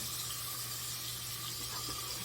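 A kitchen sink tap runs steadily while raw chicken is rinsed under it. The water hisses and rushes loudly and continuously at close range, with no voices.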